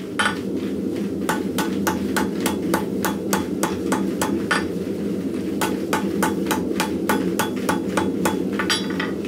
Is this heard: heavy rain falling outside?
no